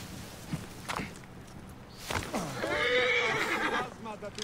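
A horse in the Egyptian world of Assassin's Creed Origins on Xbox One X gives a loud, drawn-out whinny after a few scattered hoof clops, while someone talks quietly at the start.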